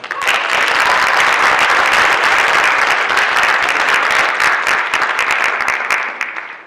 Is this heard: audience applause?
yes